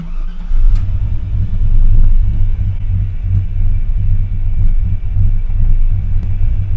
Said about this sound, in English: We put a nice cam in this thing, so it has a great idle.